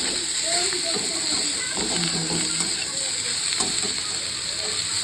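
Spinach leaves lightly fry in a hot pan for palak dal, a constant close hiss and sizzle with a strong steady whine above it and a few faint stirring scrapes.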